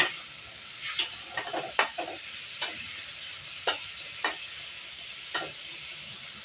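Fried pointed gourd being stirred with spices in a pan, with a soft sizzle beneath a series of sharp spoon knocks and scrapes at uneven intervals, close by.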